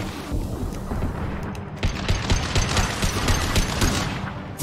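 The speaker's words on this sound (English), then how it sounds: "Concussive shot. Impact!" A concussive shot lands in the Mass Effect 2 video game, part of a dense, loud barrage of booming impacts and rattling gunfire that keeps a steady roar throughout.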